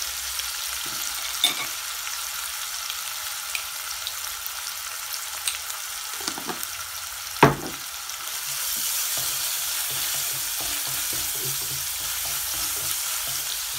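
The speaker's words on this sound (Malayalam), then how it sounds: "ഉള്ളി ഇട്ട് കഴിയുമ്പോൾ നമുക്കൊന്ന് അത് പെട്ടെന്ന് തന്നെ മൂത്ത് വരാൻ വേണ്ടി അല്പം ഉപ്പിടാം" Onions fry in a pan for coconut-milk fish curry with a steady, close sizzle, and occasional stirring scrapes and clinks, including one sharp knock, sound over it; no voices.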